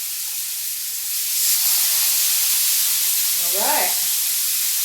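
A mahi mahi fillet laid face down in an oiled pan gives off a steady, loud, close hiss, with someone speaking briefly partway through.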